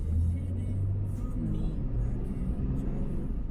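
A car drives along steadily with a continuous low engine rumble and road noise throughout, while someone speaks briefly over it.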